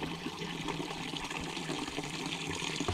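Cold drinking water pours in a strong, steady stream from a village fountain in the mountain hamlet of Ferrera Moncenisio, a continuous close rushing splash with no pauses.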